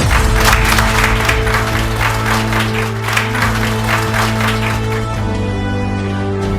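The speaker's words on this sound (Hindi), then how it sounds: "एक बार जोरदार तालियां।" Loud, sustained audience applause fills a debate event on the UGC issue, with steady clapping throughout and a constant tonal hum beneath it.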